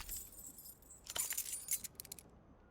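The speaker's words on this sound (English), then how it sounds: "Keys are clinking in the pocket of your flare-cut pants." Keys jingle in a trouser pocket as a game sound effect in Disco Elysium: a soft rustle, then a bright, close cluster of metallic clinks and rattles that tapers off into silence.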